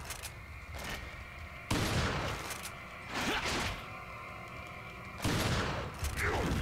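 Heavy shotgun blasts in the Resident Evil 4 video game on Wii, several booming shots spaced a couple of seconds apart, each followed by a rattling reload and distant game ambience.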